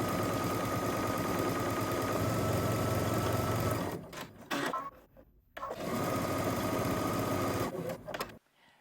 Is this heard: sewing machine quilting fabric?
yes